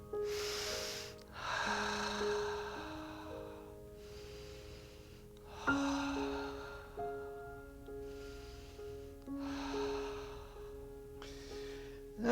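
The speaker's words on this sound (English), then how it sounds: "3 deep cleansing breaths" Three deep cleansing breaths taken during a gentle somatic movement exercise class, each a long whooshing inhale and exhale, close and evenly spaced over soft background music, with no voices.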